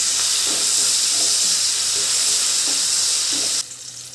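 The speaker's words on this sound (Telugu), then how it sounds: "ఆనియన్ మగ్గాక టమాటో కూడా వేసుకొని సన్న మంట మీద మగ్గించుకోవాలి." Onion and tomato cook in a pan over a low flame for a fenugreek leaf fry, giving a steady, gentle sizzling hiss close up that cuts off abruptly near the end.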